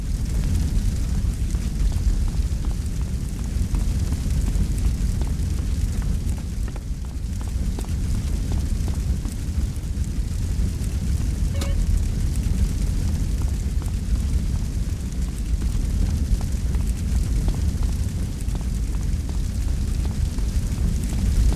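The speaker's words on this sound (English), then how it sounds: "Yeah, but those flames! They're too hot!" Flames roaring through a burning house in GTA San Andreas, a loud, steady, rumbling blaze that fills the whole stretch without letup.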